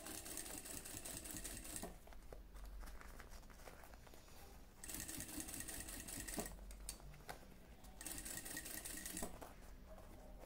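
A sewing machine stitches slowly while a garment is finished off, running in three steady bursts with short pauses between them, close and clear with no talking.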